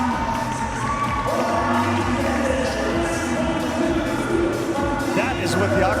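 A swimming arena crowd at an International Swimming League match in Naples cheers and shouts continuously, with a commentator talking over the roar throughout.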